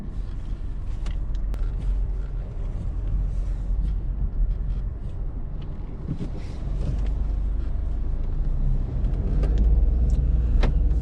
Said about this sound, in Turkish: 3 silindirli motorumuzun alttan böyle gırıl gırıl sesi geliyor.